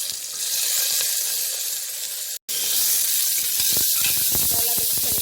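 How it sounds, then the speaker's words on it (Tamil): Whole spices, cinnamon, cloves and cardamom, hitting hot ghee with onion, a loud steady sizzle and hiss that cuts out for an instant, then resumes with crackling pops as the pan is stirred. "இப்போ பட்டை, கிராம்பு, ஏலக்காய் அதெல்லாம் சேர்த்துக்கிறேன்."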